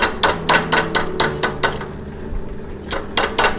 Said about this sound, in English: I want to unbend this a little bit, again with my nylon hammer, my Durlon hammer